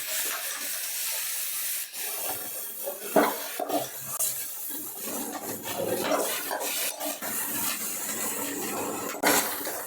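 Fried food is lifted out of a kadai, with hissing oil and spray, scrapes and clinks of a utensil against the wok, and a few sharp knocks spread through the stretch.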